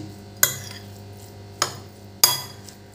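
A spoon mixes a paneer and potato filling for paratha in a bowl, giving three sharp metallic clinks spaced about a second apart, each ringing briefly over a quiet kitchen hum.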